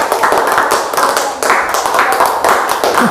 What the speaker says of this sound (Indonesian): anak-anak berikan tepuk tangan untuk kita semua.